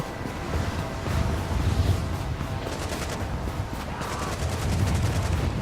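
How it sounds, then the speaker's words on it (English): Scattered gunfire in The Division, distant bursts and pops rolling under a steady windy ambience with no clear single close shot. "So I hear the sounds of gunfire"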